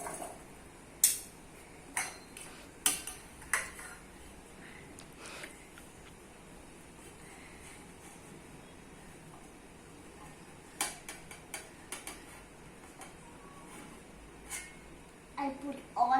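Children drop fruit pieces into a bowl while making a fruit salad, producing scattered light clinks and taps in uneven bursts, with quiet stretches between and faint voices of kids nearby.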